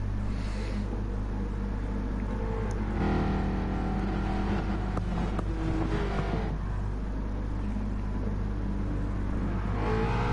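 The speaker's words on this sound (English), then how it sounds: "Nax has control, so when he puts the foot down it is green light" Ford Mustang race cars at the start of a Mustang Cup race, with engines idling and then revving and rising as the cars pull away, heard over a constant low rumble and loud throughout.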